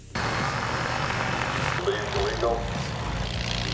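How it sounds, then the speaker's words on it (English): A small homemade Legal Eagle ultralight plane's engine and propeller drone steadily at a moderate distance while a voice talks over the top. "A legal ultralight plane you can build yourself and fly without a license."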